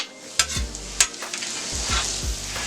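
Sausage frying on a steel griddle for a hash brown omelette, a close sizzle broken by sharp scraping and tapping of a spatula, no voices.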